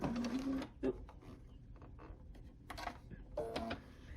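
A domestic sewing machine stitches fabric pieces for a sunflower window hanging in short rapid bursts of whirring, with pauses between runs, heard close and fairly quiet.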